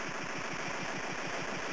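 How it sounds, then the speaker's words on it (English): Retro video game machine gun firing nonstop, a fast rattling burst of evenly spaced shots with a steady, buzzy electronic tone and no pauses. "I can't stop shooting."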